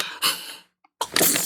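A single sneeze bursting out indoors after sniffing an apricot shower gel: a sharp, loud expulsion, a brief silence, then a second breathy burst close to the listener.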